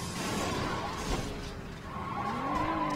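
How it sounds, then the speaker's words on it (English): A vehicle crashes during driving gameplay in Saints Row 2, with tires skidding, a sharp shattering impact and a steady roar of engine and traffic, loud and close throughout. "Wow, this guy just crashed on me."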